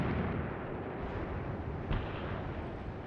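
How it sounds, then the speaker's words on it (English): Artillery fire in the WWII tactics game Graviteam Tactics: Mius Front, a continuous low rumbling barrage of distant booms with one sharper report standing out midway, no voices. "it's mostly our artillery that seems to be doing the damage, and our machine guns"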